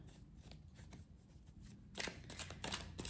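A deck of tarot cards being shuffled by small hands, soft riffling at first, then a louder burst of flicking and snapping cards close by, with no talk.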